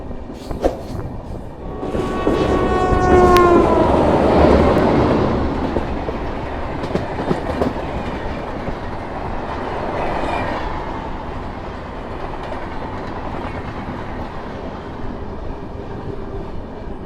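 The Vaishali SF Express rolls along an Indian railway curve, a loud steady rumble of wheels on track with rhythmic clatter and a brief horn-like tone early on, fading gradually as the train passes.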